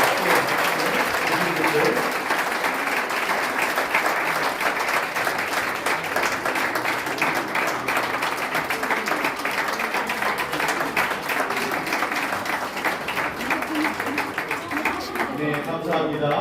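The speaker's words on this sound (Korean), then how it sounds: "큰 박수와 함께 바랍니다" An audience at a Korea–Israel forum gives dense, sustained applause as the Israeli ambassador is introduced. Many hands clap steadily and loudly throughout, with a voice faintly present beneath it.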